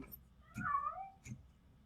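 A cat meows in RoboCop Rogue City, a single drawn-out, rising-then-falling cry, followed by a shorter, softer second call, fairly quiet over a low background hum.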